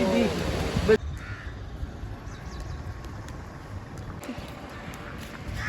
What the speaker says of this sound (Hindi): हाँ भाई कौए क्या कह रहे हो?